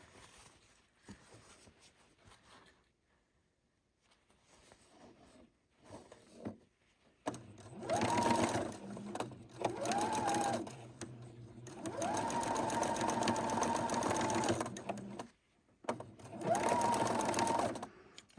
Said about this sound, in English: sometimes we backstitch when we go over a seam just for extra security